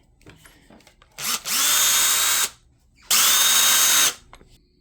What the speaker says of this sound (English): I had to do a little bit more drilling because they weren't exactly compatible yet